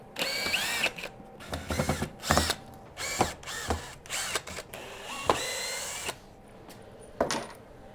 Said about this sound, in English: I have to cut each railing in 4 different sections because of the bed size of the CNC.